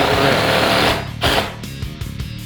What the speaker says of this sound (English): we are going to run down these screws